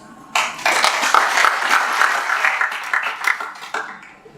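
Applause and acclamation from a gathering paying tribute at a commemorative political event, clapping starting abruptly after a brief quiet moment, then rising and holding with distinct individual claps and a few shouts before tapering off.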